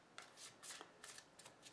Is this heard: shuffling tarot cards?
yes